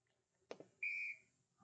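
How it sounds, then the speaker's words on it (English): A whistle sound effect from a LEGO robotics app plays once as a bright, steady tone lasting about a third of a second, preceded by soft clicks and faint background noise. "Instead of a swing, I just want it to whistle."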